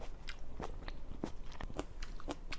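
Close, crisp bites and crunchy chewing of sweet fruit, a steady series of sharp crunches without talk.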